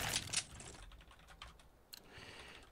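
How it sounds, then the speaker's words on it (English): A computer keyboard typed on during a Counter-Strike session on the de_train map, with quick bursts of soft clicking keystrokes close by, fading to faint scattered taps. "Instead of typing the same thing every time."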